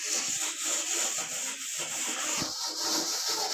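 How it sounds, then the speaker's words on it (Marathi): A kitchen gas stove is scrubbed clean with a steady, close, rasping rubbing sound that goes on throughout in uneven strokes, with no talking. "फरशी पण धुवून घेतली, गॅस घासून घेतली स्वच्छ."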